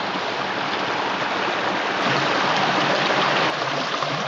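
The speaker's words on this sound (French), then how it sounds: "On est en train de suivre un joli petit ruisseau." A small stream flows steadily through a shaded ravine, giving a close, continuous rushing hiss with no pauses and no voices.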